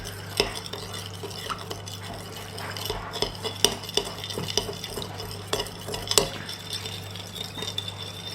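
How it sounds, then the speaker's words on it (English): A spoon mixes a fennel, celery and egg salad in a bowl: close, irregular scraping and stirring with repeated sharp clinks of metal against the dish over a low steady hum. "I'm just going to give that a mix for a second."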